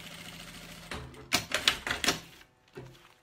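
A sewing machine topstitches a seam on a fabric bag, giving a close, rapid burst of mechanical stitching clatter in several quick pulses, then a brief pause and one final short burst.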